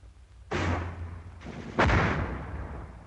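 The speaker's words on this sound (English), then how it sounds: "mortar fire is high-angle fire which can slam down from the sky." Two heavy mortar explosions from high-angle fire, each a sudden loud booming blast with a long rumbling decay, the second stronger and about 1.3 seconds after the first, with no voices.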